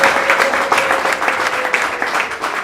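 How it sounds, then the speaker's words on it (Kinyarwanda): A church congregation applauds in a steady, sustained round of clapping that fills the room at close range, with a faint voice or sustained tone running underneath. "Iteraniro ryose rigukomeye mu mashyi."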